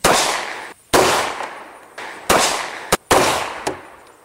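Four loud, close .45 ACP shots from a CZ 97B pistol strike an AR500 steel armor plate outdoors, each sharp crack trailing into a ringing decay, spaced about a second apart with a short extra pop between.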